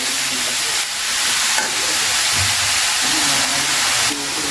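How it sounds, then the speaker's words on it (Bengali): Leafy greens are stirred and fried in a hot pan, giving a loud, continuous sizzle with scraping stirring strokes and no talk. "দিয়ে আমি এটা নাড়িয়ে নিচ্ছি এইভাবে নাড়িয়ে নিলাম আর এটা পুরো ভাজা ভাজা করে নিতে হবে"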